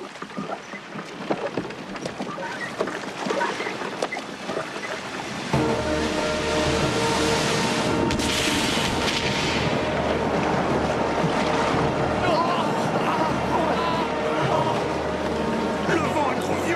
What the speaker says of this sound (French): Le vent est trop violent.